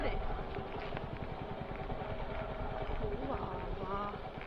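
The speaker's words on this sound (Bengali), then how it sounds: "আস্তে আস্তে বার করে নি বাইকটা" A motorcycle engine idles and putters low and steady as the bike is eased slowly out onto a broken, muddy village road on a ride from Kolkata, with voices talking over it.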